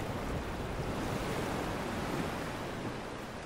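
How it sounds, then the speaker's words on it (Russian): A strong sea current churning and roaring through a narrow, shallow strait: a dense, steady wash of rushing water, loud and unbroken throughout, with no voices over it. "Воды здесь кипят, ревут и крутят."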